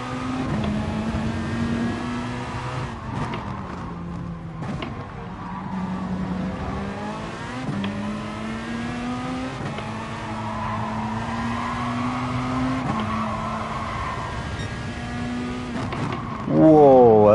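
Race cars in a racing video game, including a Toyota Supra, with engines droning and shifting pitch through gear changes, tires squealing and skidding, a steady loud game mix with a commentator's voice over it.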